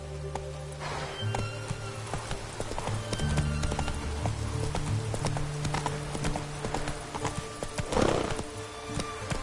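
Roach, a horse in The Witcher 3, gallops with steady clip-clop hoofbeats close by, a whinny breaking through near the end over a low ambient hum.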